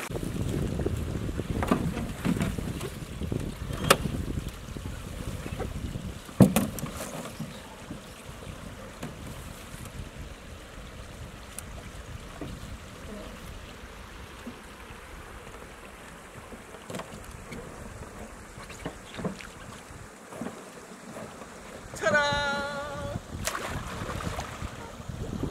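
A canoe is paddled across open water in strong wind on a wilderness camping trip, with constant wind rush and soft water sounds, occasional knocks and splashes, and a brief bird-like chirp near the end.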